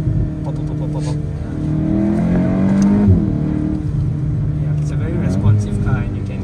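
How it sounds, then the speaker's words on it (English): A VW Golf GTI Mk8 Clubsport 45 with an Akrapovic exhaust revs and accelerates, its throaty note rising and falling with popping, while someone talks over it. "You can hear a little bit of the Akrapovic exhaust."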